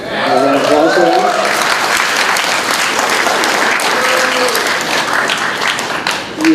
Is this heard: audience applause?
yes